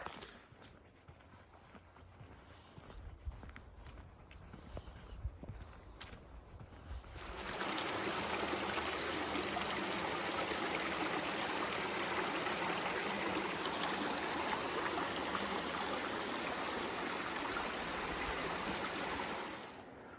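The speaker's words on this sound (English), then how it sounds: "There's our creek down there. Can't see it too well, but you can hear it." Mountain creek in the San Bernardino Mountains flowing below on a snowy-dusted day, faint and uneven at first with a few knocks, then a loud steady rush of water filling the rest.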